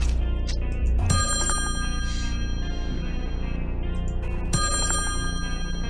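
A telephone rings in the horror puzzle game Slayaway Camp, repeated bright electronic ring bursts over a continuous low game music bed, loud and close.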